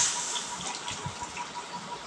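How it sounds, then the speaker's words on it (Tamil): Dissolved tamarind liquid is poured into a pot of pepper rasam, a short steady gush of splashing liquid at close range. "இப்போ உடனே நம்ம கரைச்சி வச்சோம்ல அதை ஊற்றிடலாம்."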